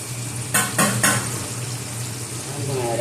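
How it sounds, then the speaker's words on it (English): Haddock and cod fry in a pan with a steady, close sizzle while a few clattering stirs of greens sound in three quick bursts near the start. No one speaks. "We'll let that go ahead and fry on up while I check on stir my greens."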